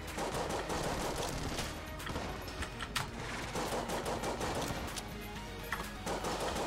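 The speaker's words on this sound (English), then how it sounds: "Let the shots come out." Rapid gunfire from the video game Enter the Gungeon, dense continuous bursts of shots with sharp cracks and chaotic game effects, loud and steady throughout with little speech.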